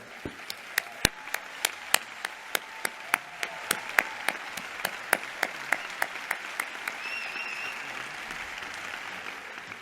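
Scattered, unhurried clapping at a union congress, individual claps standing out one by one in a slow, fairly regular beat, moderately near, with a faint whistle-like tone later on.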